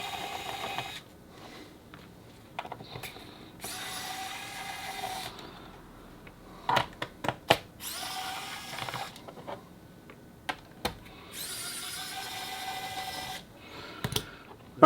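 Small xCool mini electric screwdriver with a magnetized tip backing screws out of a device: several bursts of high, buzzing motor whir with short pauses between, interspersed with faint clicks and taps, fairly quiet and close.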